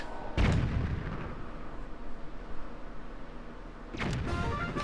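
Two booming cannon shots from the Splooshing minigame in Zelda: The Wind Waker fire a few seconds apart, each a loud burst that fades into a low rumble over steady game background sound.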